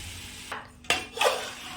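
Rice grains tip into a hot pan with spices and sizzle, with a couple of brief pouring and scraping bursts against the metal.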